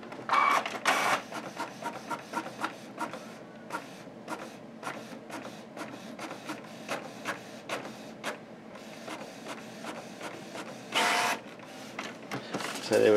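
A Canon printer prints a page sent wirelessly by AirPrint: close, loud rhythmic mechanical clicks and ticks of the feed, with a few brief whirring bursts of paper motion near the start and again toward the end.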